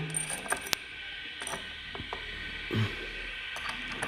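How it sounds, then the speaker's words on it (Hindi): Small metallic clicks and scraping come from removing the metal trigger guard on a Diana Outlaw air rifle during disassembly, faint, close-up and scattered over a quiet background hiss. "ट्रिगर गार्ड खोलते हैं।"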